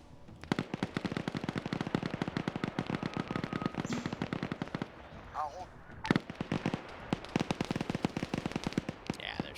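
Rapid bursts of automatic and single-shot gunfire crackle through a military video game, with dense volleys and brief pauses while voices talk over the shooting.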